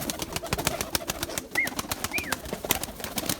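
Purebred Erzurum white pigeons flapping their wings, a fast run of sharp flutters and wing claps close by, with a couple of faint bird calls in the middle.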